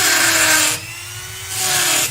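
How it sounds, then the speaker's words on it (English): A small power chisel carving tool works a wood surface during woodturning, giving a steady high buzzing whine that eases off for a moment mid-clip and then resumes, close and loud with no talk. "this is a little carving tool that uses like a power chisel"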